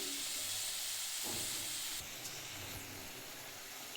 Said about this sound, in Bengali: চিংড়ি মাছটা ভালো করে ছাড়িয়ে ধুয়ে ভেজে নিচ্ছি